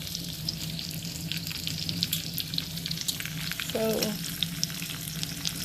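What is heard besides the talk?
bacon frying in a pan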